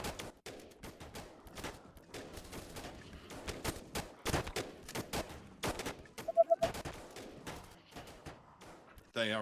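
Colony defenses under attack in the strategy game They Are Billions, with rapid bursts of gunfire and volleys cracking repeatedly in uneven clusters, moderately loud and close throughout.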